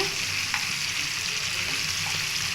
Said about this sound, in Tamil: உங்களுக்கு கலந்து போடுறேன் பார்த்துக்கங்க